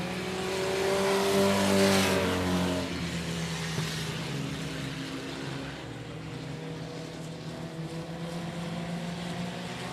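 Race cars roar around the oval at 105 Speedway during a regular race program, with the two leading cars battling closely. A loud engine note sweeps past near the start, then a steady, fainter engine drone fills the rest.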